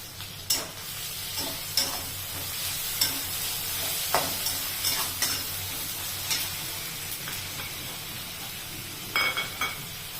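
Chopped tomatoes for palak dal khichdi sizzle softly in a pan under a steady hiss, broken by sharp scrapes and clinks of a spatula stirring every second or so, close and without speech.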